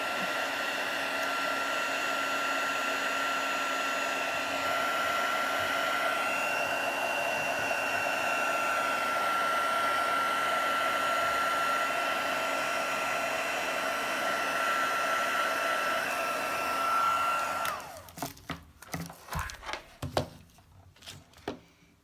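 A heat gun blows hot air steadily and loudly to dry wet paint on a handmade card, a constant whooshing roar with a faint whine that cuts off near the end, followed by a few scattered knocks and handling sounds.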